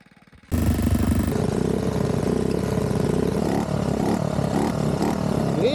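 Small Honda Dax minibike with a half-automatic gearbox revs hard during a two-lap race, a loud buzzing engine drone starting abruptly and holding with shifting pitch, close by.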